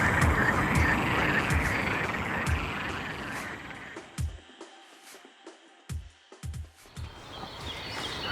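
A dense frog chorus at night by a lake, with many overlapping croaks and trills filling the first half, then thinning to scattered individual croaks and clicks against near silence, fairly close and alone without talk.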